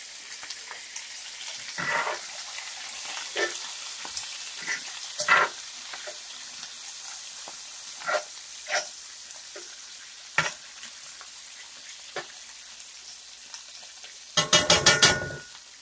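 Canned mushrooms sizzling in a pan for a Philly cheese steak filling, a soft steady frying hiss broken by scattered scrapes and knocks of stirring, ending in a short rattling burst.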